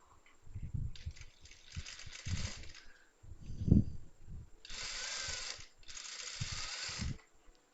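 A sewing machine stitching the inner shoulder seam of a chudithar runs in short bursts separated by pauses, with mechanical whirring and clicking at a moderate, fairly close level.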